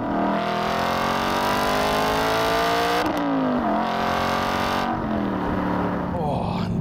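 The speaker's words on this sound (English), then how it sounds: "you can drop a few gears and you can rev it out." Modified Aston Martin engine revving hard through a loud aftermarket exhaust, pitch climbing and dropping across gear changes over a sustained, close, continuous roar.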